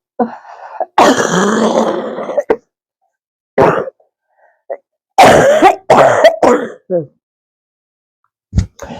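A patient recovering from a lung mass coughs in harsh, close bouts, a long rasping fit followed by several shorter coughs and throat-clearing, with silent pauses between them.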